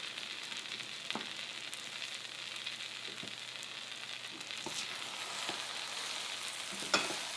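Bitter melon with tomato and eggs frying in a pan for a Filipino dish, a soft, steady sizzle with occasional faint scrapes and stirring taps, quiet and continuous.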